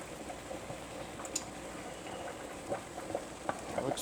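Quiet stirring of a creamy pasta sauce with freshly grated Parmesan in a pan for a lemon pesto shrimp dish, a soft steady scrape and wet patter with a few brief clinks, no talking.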